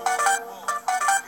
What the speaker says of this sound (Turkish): bildirim geldi, telefonu kapatayım